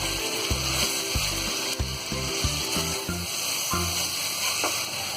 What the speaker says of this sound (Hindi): और इसे भी हम थोड़ी देर भून लेंगे।